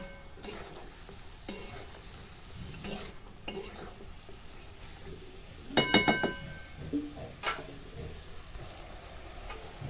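Bay leaves and sliced green chillies stirred in a hot pan for a chicken nihari, with scattered clinks of a spoon against metal, a light sizzle underneath and a louder burst of clattering stirring partway through.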